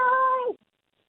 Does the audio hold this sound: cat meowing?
yes